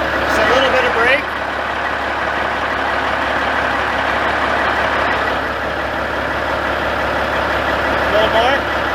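A truck engine idles in neutral, a steady low rumble running under the whole stretch, with faint whining tones and a brief click partway through.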